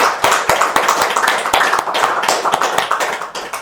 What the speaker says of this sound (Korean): 편집위원님들께 박수 한번 안 계셔도 박수.